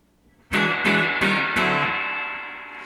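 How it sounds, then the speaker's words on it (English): An electric guitar plays through a 1976 Traynor YGL-3 amp with the reverb set at 5, striking four loud, distorted chords in quick succession after a brief quiet start. The last chord rings out and fades slowly. "There's a reverb on 5 too."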